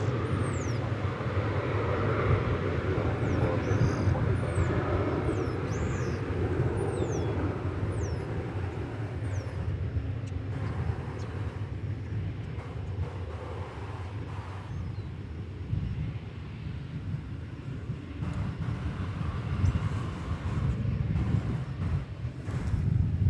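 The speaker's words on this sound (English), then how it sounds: "So here goes the big Dreamliner" A Boeing 787 Dreamliner takes off bound for Seoul from a large airport, a distant, low engine rumble under steady wind noise, with faint bird chirps early on and no talk.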